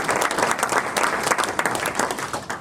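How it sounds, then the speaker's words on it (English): Dense, steady applause from a breakfast event audience, many hands clapping together at close range. "Can we give them all a round of applause"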